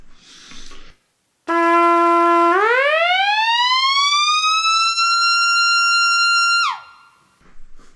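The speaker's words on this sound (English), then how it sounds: "who wants to hear Tremolo arm?" Trumpet through a Boss PS-5 Super Shifter in tremolo-arm mode holds a note that bends smoothly upward in pitch, sustains, then drops sharply, loud and alone after a short brief phrase.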